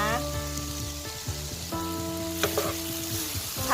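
Mushrooms stir-fried in a pan, a soft continuous sizzle and crackle that runs under a steady background tone with occasional light clicks of stirring, without speech.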